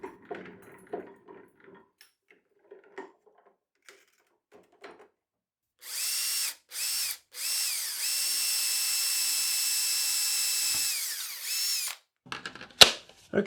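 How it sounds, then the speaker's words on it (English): Power drill boring a hole through a belt during a repair: a few quiet handling knocks, two short whirring bursts, then a sustained high drill whine that winds down, followed by clattering. "Okay, hole drilled"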